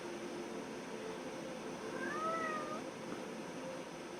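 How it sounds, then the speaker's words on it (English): A single soft cat meow, slightly drawn out and rising then falling, heard over a steady background hiss with no talking. "if you hear a little meow"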